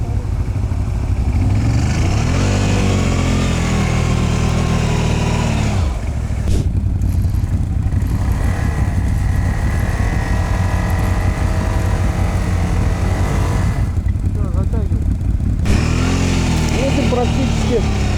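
Quad bike engines roar loudly and continuously while ploughing through deep snow, revving up and down with strain and no letup, close to the listener, with voices at times.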